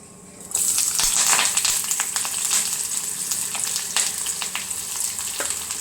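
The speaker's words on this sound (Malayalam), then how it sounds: "അതിനൊക്കെയുള്ള ആവശ്യമുള്ള ഉള്ളിയും കറിവേപ്പിലയും ഇട്ട് കൊടുക്കാം." Onions and curry leaves hit hot oil in a pan and burst into a loud, steady sizzle that holds throughout, with crackles and pops from spattering, close up and with no voices.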